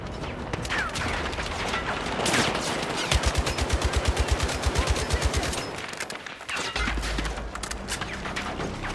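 Rapid automatic gunfire in the video game Battlefield 6, a loud sustained burst of evenly spaced shots in the middle, with scattered shots and game noise before and after.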